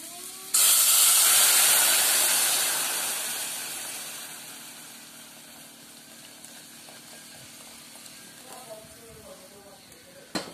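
Boiling water is poured onto brown rice in a home kitchen. A sudden loud hiss of steam and splashing rises, then fades over several seconds into quieter bubbling and a few light clinks near the end.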